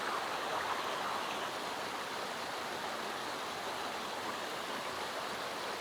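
A waterfall roars as steady, broadband rushing water, constant and even throughout with no breaks and no voices.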